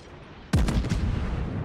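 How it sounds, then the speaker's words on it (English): A Fusou battleship fires high-explosive shells in World of Warships, a single sharp, booming salvo after a quiet start, followed by a rumbling, rolling tail that fades slowly. "I'm going to spam HE"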